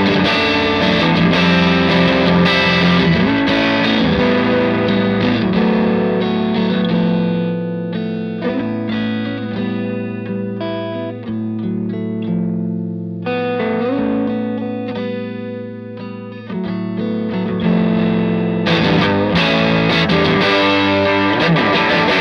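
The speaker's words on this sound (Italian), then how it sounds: "riducendo la potenza e spingendo il gain, otterremo un vintage crunch del tutto naturale e dinamico ad un volume sempre gestibile" A Dreamaker PPX2 Phil Palmer signature tube amplifier gives a vintage crunch tone with the power reduced and the gain pushed, heard as a loud, continuous overdriven electric guitar with chords and sustained notes and no talking.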